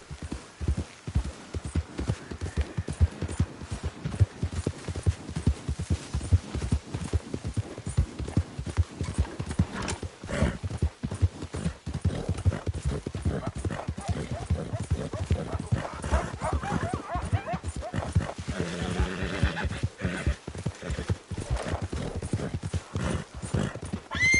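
A horse gallops in a PS4 video game with rapid, continuous clip-clop hoofbeats for the whole stretch and an occasional whinny, while someone speaks briefly over it.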